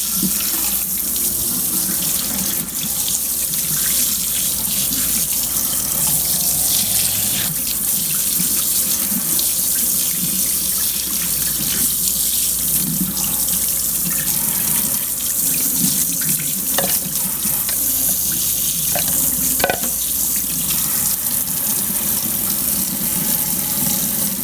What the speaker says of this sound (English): Wash them off real quick.